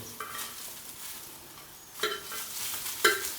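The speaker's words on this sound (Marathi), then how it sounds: "आता आपण त्यामध्ये लसूण टाकून घेऊ" Garlic is stirred into roasted green chillies frying in a pan for a Konkan dried bombil thecha. A quiet, steady sizzle plays close by, with a few sharper scrapes and clinks from the spatula near the end.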